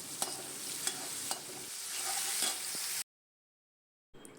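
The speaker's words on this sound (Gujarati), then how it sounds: "હવે નાખીશું આપણું ક્રશ કરેલું લસણ, ડુંગળી અને મરચાંની પેસ્ટ. આને પ્રોપર હવે કૂક કરીશું." Crushed garlic, onion and chili paste cooks in a pan, giving a steady frying hiss broken by a few sharp stirring scrapes for about three seconds, then a pause of silence before the sizzle briefly returns.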